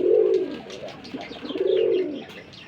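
A male red pigeon coos in two long, loud, close rolling calls separated by a short gap, with no talking over it.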